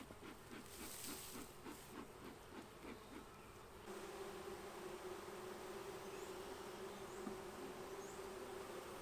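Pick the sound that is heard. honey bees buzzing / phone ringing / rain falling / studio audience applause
honey bees buzzing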